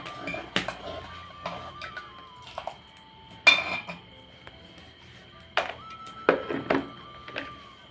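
A spoon stirring garam masala into dal in a metal pot gives scattered clinks and scrapes against the pot, irregular and close, with gaps of quiet between them.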